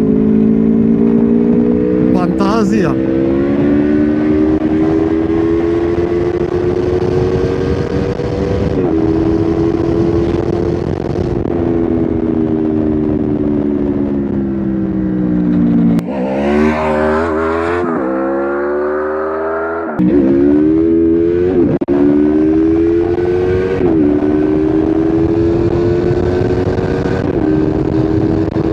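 A 2012 Honda Crossrunner 800 motorcycle engine drones steadily while riding, rising and falling through gear changes with a sharp drop and rev surge midway, loud and close under wind noise, with a rider talking briefly.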